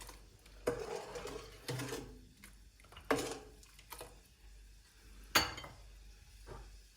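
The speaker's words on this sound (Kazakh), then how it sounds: "Енді жақсылап араластырамыз." Sugar is stirred into homemade iced tea, giving a series of quiet scraping, clinking strokes in separate bursts of about a second each, with short pauses between them and no talking.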